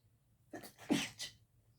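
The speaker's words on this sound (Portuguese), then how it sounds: "não deixa eu espirrar agora" A single sneeze, close and fairly sharp, follows a faint breath in; a short burst rises, peaks, then trails off in a quiet room.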